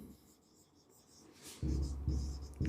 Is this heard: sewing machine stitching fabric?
no